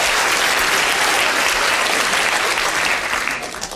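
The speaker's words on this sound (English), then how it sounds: "Give yourselves a big round of applause for that." Audience applause from a crowd at a Royal Institution science lecture, a dense steady clatter of clapping that holds loud and even for several seconds before starting to thin toward the end.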